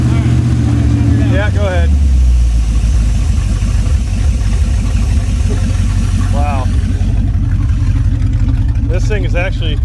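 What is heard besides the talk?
abandoned Chevrolet C10 truck engine running without exhaust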